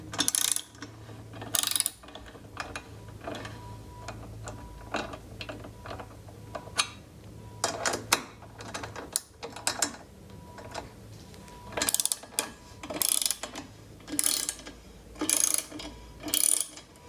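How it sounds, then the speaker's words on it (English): A hex screwdriver works loose the screws of an Alt-Rider rack on a BMW F800GS motorcycle, giving sharp ratcheting clicks in short irregular bursts with quiet gaps between, close by. "to remove the alt-rider rack, you need like the hex screw driver"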